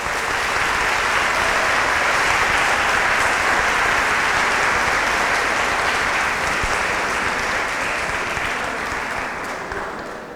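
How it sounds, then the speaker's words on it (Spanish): Sustained applause from an audience welcoming a speaker at a Catholic vicarial congress on Saint Óscar Romero. The clapping is dense and steady for about ten seconds, then gradually thins and fades toward the end. "Lo recibimos por favor con un aplauso."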